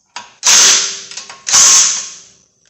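A ratchet tightens bolts on a wheel bearing hub removal tool during car repair: two loud, close bursts of rapid clicking, each about a second long, with a few faint clicks between them.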